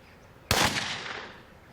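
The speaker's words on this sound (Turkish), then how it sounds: "Silah patladığında sporcularımızın hepsi yerlerinden fırlayacaklar." A starting pistol fires once at the start of a short-distance sprint race, a sharp, loud crack from silence followed by a decaying echo tail.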